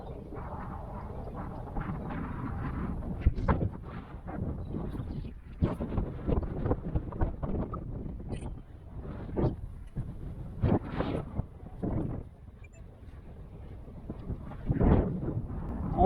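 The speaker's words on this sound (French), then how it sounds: "On a du vent, hein, c'est voilà, c'est du 30 à 40 km/h par rafale" Gusty wind of 30 to 40 km/h buffets a microphone in rumbling bursts, loud and close, with occasional sharper thumps of wind hitting the mic.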